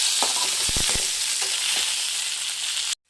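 Loud, continuous sizzling of mutton gravy base sautéing in a pan over low heat, with a few scraping stirs near the start, then it cuts off abruptly.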